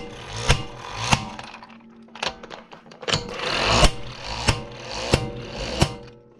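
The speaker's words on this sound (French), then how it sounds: "On voit la douille qui tourne." A socket spins on a wrench while nuts are tightened, giving sharp, evenly spaced metallic clicks about every half second over a scraping, rattling mechanical bed, close and fairly loud.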